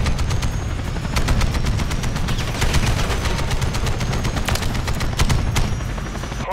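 Continuous gunfire in Call of Duty MW3, a dense overlapping fusillade of rapid shots with explosions and battle noise that stays loud throughout.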